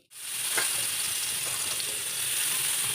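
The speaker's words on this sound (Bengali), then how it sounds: "সেটাকে পুরো ভেজে নিচ্ছি একটু লাল করে ভেজে নেবো" Sliced bitter gourd fries in hot oil in a pan, giving a steady, close, bright sizzle with a crackling hiss that continues without a break.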